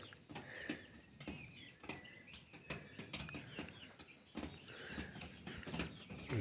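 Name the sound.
young chickens' chick-like calls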